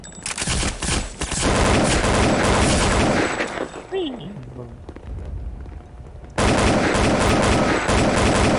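Rapid AK rifle fire in the video game Counter-Strike: Condition Zero crackles loudly in dense automatic bursts. The shooting pauses in the middle while other game sounds play, then resumes abruptly at full intensity.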